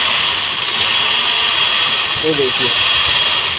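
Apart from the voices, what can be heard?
misfiring car engine idling and vibrating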